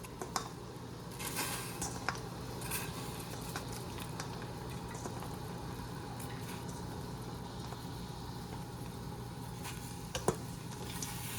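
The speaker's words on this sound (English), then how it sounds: "so we're just going to add our onions" Red onions sizzle steadily in a pot while being stirred for sweet and sour pickled onions, a continuous close crackle with occasional scraping clicks and no talking.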